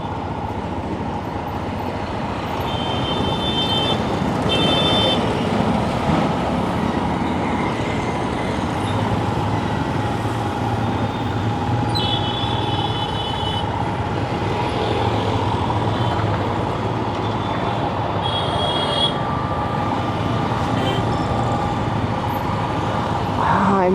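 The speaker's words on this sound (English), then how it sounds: "I'm just pulling out into the traffic because I've not got a right lot of choice" Road traffic in Jaipur, India, heard from a touring motorcycle: a continuous broad rumble of engines and passing vehicles, with a few short horn-like tones, moderately loud and steady.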